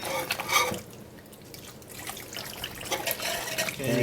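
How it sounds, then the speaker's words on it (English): Starchy pasta water poured into a pan of rigatoni: soft liquid splashing and dripping close by, with light trickling and faint utensil sounds, fairly quiet throughout. "Let's put a little bit more of that water in there."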